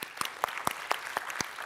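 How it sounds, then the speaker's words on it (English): An audience claps for a speaker coming on stage at a Robot Framework conference keynote, with sharp, evenly spaced claps at a steady rhythm, fairly close and moderately loud. "applause for Pekka Clark"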